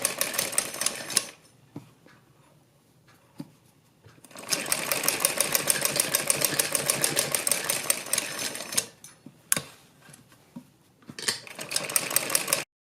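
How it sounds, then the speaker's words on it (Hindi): A sewing machine stitching a sleeve runs in bursts of rapid, even mechanical clatter, close and clear, separated by short quiet pauses as the fabric is repositioned, with no talking. "यहाँ से सिलाई लगानी शुरू करेंगे इस तरह से"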